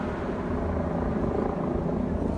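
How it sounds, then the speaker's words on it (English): A police helicopter flies overhead during a manhunt, a steady dense rotor roar that stays constant and fairly loud with no talking. "Look, see, there's the helicopter that was following us."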